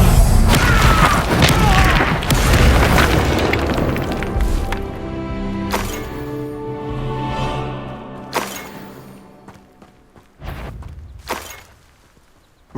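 A Confringo fire spell bursts with a heavy boom in the Hogwarts Legacy game, loud and close, followed by crashing debris and a few more thuds and impacts as the fight dies down, with no talk over it.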